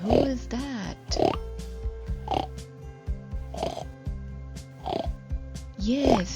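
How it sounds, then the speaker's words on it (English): A farm pig oinks in a series of short, repeated grunts and snorts with steady background music running underneath. "It's a pig."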